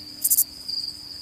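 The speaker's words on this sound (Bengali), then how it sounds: "শুধু ঝিঁঝি পোকার আওয়াজ আর ব্যাঙের ডাক শোনা যাচ্ছে।" Crickets chirp at night at a deserted, empty railway station after rain. One close, shrill burst of chirping stands out above a thin, steady insect drone that continues throughout.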